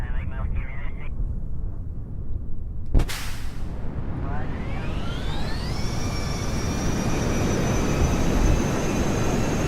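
An aircraft in Kerbal Space Program starts up with a sharp bang, then its engine roars and climbs steadily in pitch into a loud, sustained whine as it takes off.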